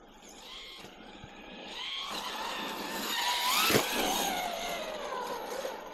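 A 30° North brushless 12S RC buggy tears across an off-road track, its high electric motor whine rising and falling as it accelerates, with tires scrabbling and a peak as it passes near.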